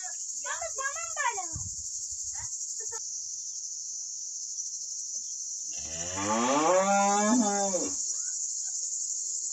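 A cow on a village farm moos once, long and loud, over a constant high shrill of crickets, with earlier bits of voice or animal calls near the beginning.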